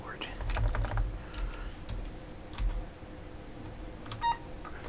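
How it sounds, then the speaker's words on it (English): Clicky keystrokes on a PS2 computer keyboard on a workbench, a scattered run of quick taps near the mic, with a short electronic beep toward the end. "I do have an actual PS2 keyboard."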